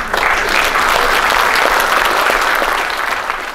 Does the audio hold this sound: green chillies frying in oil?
no